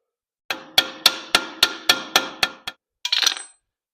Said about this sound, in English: let me have a socket, just kind of tap on that, see if it'll go in.